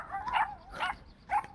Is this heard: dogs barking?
yes